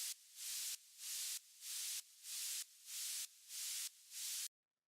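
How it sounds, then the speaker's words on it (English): Bandpass-filtered white noise layer made in Operator for a track, pulsing in seven rhythmic swells that each fade in and cut off, a bright airy hiss with no voices, ending in sudden silence. "this little white noise that kind of plays throughout the track"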